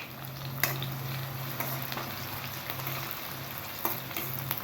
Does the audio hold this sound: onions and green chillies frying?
yes